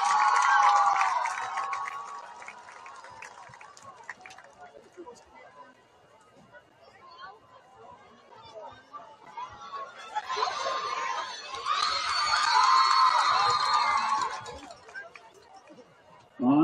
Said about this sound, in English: A big round of applause for all of our both school cheer squads.